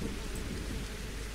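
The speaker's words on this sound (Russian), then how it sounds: "У нас пошел дождь." Dense, steady rainfall pours down with a deep rumbling underneath, like thunder rolling through a downpour.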